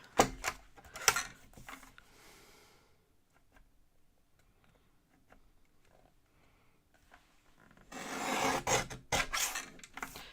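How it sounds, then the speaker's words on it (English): Craft material is trimmed by hand with short raspy cutting strokes in two quick clusters, at the start and again near the end, with a quiet pause between them and no talking. "I'm going to trim a sliver off of here."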